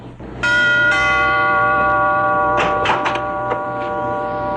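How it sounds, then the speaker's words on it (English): A radio-play doorbell effect at a cattle ranch estate rings out as two sustained bell-like chimes, one struck right after the other, followed by a few faint knocks or clicks while the tones linger. "I went up and rang the doorbell"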